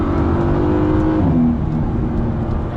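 A Mercedes-AMG GT S engine roars loudly at high revs, its pitch dipping briefly as it shifts, then droning on steadily.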